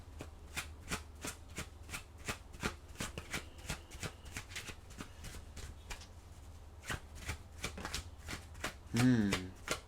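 Tarot cards are shuffled close up in a quick rhythmic run of crisp riffling snaps and slaps, with a brief murmured voice near the end.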